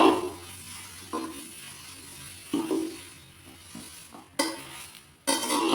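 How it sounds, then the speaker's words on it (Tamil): Green curry leaves roasting in a pan while being stirred, a soft dry sizzle broken by several louder scraping and clattering strokes of the spoon against the pan, close by with no voices. "பச்சை கருவேப்பிலை பார்த்திங்கன்னா நல்லா வறுத்து எடுத்துக்கோங்க"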